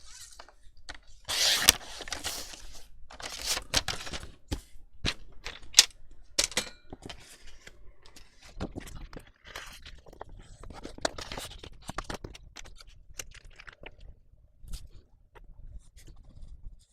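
A long strip of paper for a scrapbook disc-bound album cover being cut, heard as a series of sharp crisp chops and scrapes in irregular bursts, fairly close, with quieter handling noise between them.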